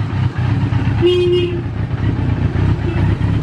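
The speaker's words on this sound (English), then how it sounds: "Horn." A car horn gives one short steady honk partway through, over a constant engine idle and road rumble.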